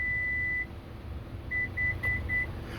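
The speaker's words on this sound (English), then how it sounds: "You're going to hear a beep first, and then you're going to hear a second beep" Toyota RAV4 power rear door beeping while its opening height is set: one long electronic beep, then a pause, then four short beeps in quick, even succession, clear over a low background hum.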